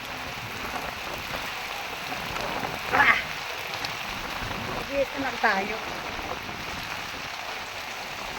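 Heavy rain pours down steadily outdoors at night, a dense continuous wash of drumming with a few louder bursts, while a person speaks briefly over it.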